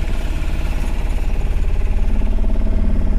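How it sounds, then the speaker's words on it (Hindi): A Mahindra Supro truck engine idles with a loud, steady, rapid rumbling throb, close and continuous, its firing pulses even with no revving. "अभी कार को मैं करता हूँ स्टार्ट"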